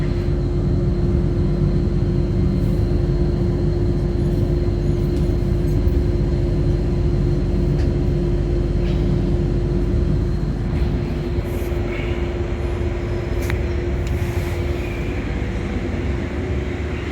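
A commuter train runs between stations, giving a steady, continuous rumble with a constant hum throughout, heard from inside the carriage.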